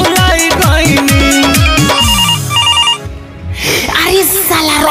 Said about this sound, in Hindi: देख तो रे है मोबाइल कौना के बाजाता